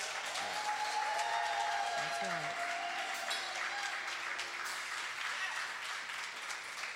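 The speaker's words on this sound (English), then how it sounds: "Let us give our panel a round of applause." A panel audience breaks into steady applause, with a brief spoken remark and some voices over the clapping.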